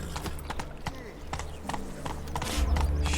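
Horse hooves clopping at a quick, irregular gallop in The Witcher 3 game, close and steady, with a voice speaking over the hoofbeats and a low rumble building toward the end.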